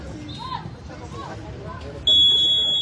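A shot clock violation buzzer sounds at a 3x3 basketball game, a loud, sustained electronic tone that cuts in suddenly and holds steady over crowd babble and voices.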